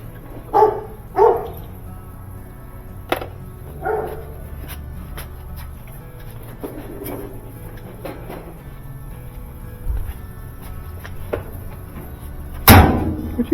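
Short dog barks come in scattered bursts, some faint and distant, with a sharp bang near the end and low background hum.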